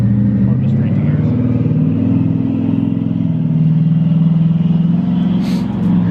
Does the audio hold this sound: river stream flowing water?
no